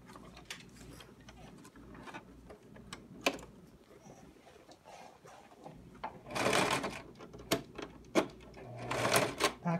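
A sewing machine stitches along the hem edge of a jingle dress, with short mechanical clatters and ticks, then two louder sustained bursts of rapid stitching near the end.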